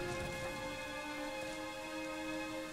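Steady rain falls in the video game Dragon Quest XI S, a soft, even hiss of drops with a faint background music tone, continuous and fairly quiet with no talking.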